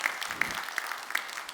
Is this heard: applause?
yes